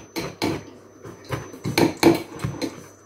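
Dry flour and baking powder for wholemeal banana bread get stirred in a bowl, a series of close, uneven scraping and clinking strokes of a utensil against the bowl, with no talking.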